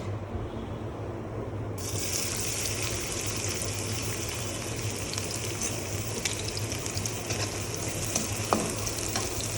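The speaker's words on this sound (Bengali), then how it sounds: "পেঁয়াজটা একটু হালকা ব্রাউন করে নিব।" Onion fried in oil in a pan for a fish curry, giving a steady, loud, continuous sizzle that brightens after the first couple of seconds and runs unbroken to the end with no talking.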